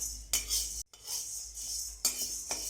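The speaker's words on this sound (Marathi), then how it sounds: "शाबू सुद्धा आपले चांगले आपण भाजून घेऊ।" Sago pearls dry roasting in a pan for chakali flour: a steady bright rattling hiss of pearls moving against metal, with a few louder scrapes of a utensil and one brief pause, close and alone.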